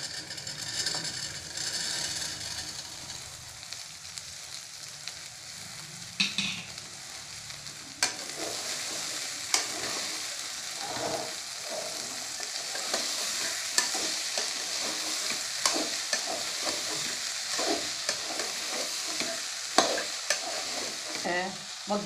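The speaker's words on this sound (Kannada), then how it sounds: "ಹಿಂದೆಲ್ಲ ಬಟಾಣಿ ಹಾಕ್ಬಿಡ್ತೀವಿ." Green peas are stirred and frying in an onion tempering with garlic and ginger for a home-style usli, a steady bright sizzle running throughout while a utensil scrapes and clacks against the pan in irregular strokes.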